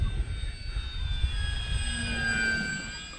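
Bigfoot radio-controlled model airplane flying on a windy day, a steady high engine whine with shifting pitch over low rumbling wind buffeting, moderately distant, with no voices.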